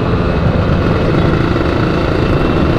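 A tuned motorcycle engine that is running poorly gives a loud, dense, rough drone, steady and close for a few seconds with no talking.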